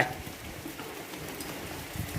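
Rain falling outside a house, a soft, steady, even hiss with faint patters and no voices.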